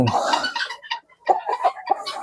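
Chickens clucking inside a farm poultry shed, a few close, uneven bursts of clucks and short calls separated by brief gaps, loud and near.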